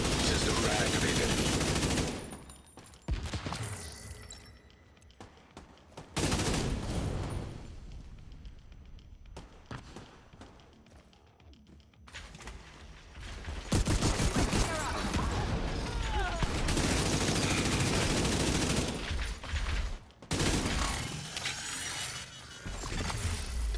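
Shotgun blasts in a video game, loud repeated bursts of gunfire and crashing impacts in several separate volleys with short quiet gaps, mixed with game audio.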